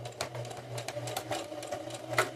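Sewing machine running slowly in short, even stitching bursts as it backstitches over the zipper teeth of a fabric toiletry bag, a close, quiet mechanical hum with a soft rhythmic needle clatter.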